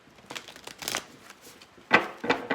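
Tarot cards being shuffled by hand, soft riffling rustles followed by two louder, sharper bursts of cards snapping together near the end, close and otherwise quiet.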